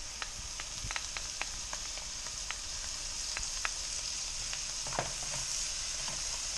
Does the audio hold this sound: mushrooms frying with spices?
yes